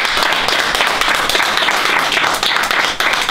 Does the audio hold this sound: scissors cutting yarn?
no